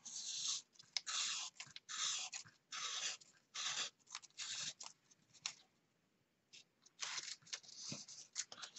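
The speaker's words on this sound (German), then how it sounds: "Setze den Stift nicht ab und ziehe einfach nur das Band unter dem Stift hindurch" A pen scratches a continuous line along a paper Möbius strip as the band is pulled beneath it, a close, dry rasping in bursts with brief pauses, alone with no voices.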